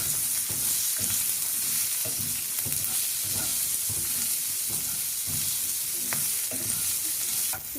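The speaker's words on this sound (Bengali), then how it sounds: "লবঙ্গ তেলে আগে দিইনি কারণ এটা চোখে মুখে ফাটে খুব" Cloves and green chillies fry in hot oil for a chicken Kolhapuri. A continuous close sizzle carries soft popping crackles and repeated stirring scrapes at a steady rhythm, with no speech.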